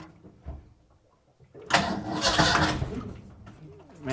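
An old muscle car engine is cranked while left in gear, with a low knock or two and then a sudden loud burst of mechanical roar that dies back and flares again near the end.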